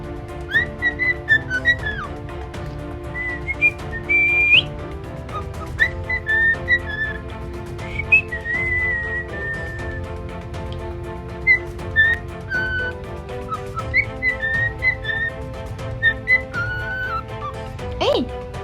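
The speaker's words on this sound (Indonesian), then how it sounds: "seorang wanita muda berduet dengan burung kesayangannya yang berjenis folk atau parkit Australia menyiulkan lagu Doraemon" A pet budgerigar (Australian parakeet) and a young woman whistle the Doraemon song together, bright melodic phrases trading back and forth over a steady background, close and clear throughout.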